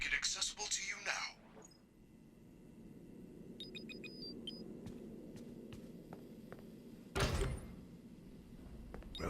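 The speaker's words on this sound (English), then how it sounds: "There is a button on the wall that will open the door to the back room." A door slides open in the Five Nights at Freddy's: Security Breach video game on PS4: one loud, sharp whoosh-thud rises over a low mechanical hum and quiet electronic beeps.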